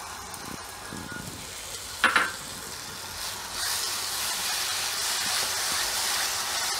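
Tomato puree poured into hot oil with spices while cooking chhole: a sharp splash and crackle, followed by a steady, loud hiss of sizzling that continues to the end.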